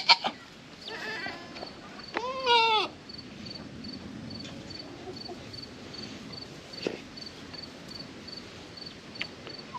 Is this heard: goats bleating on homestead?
yes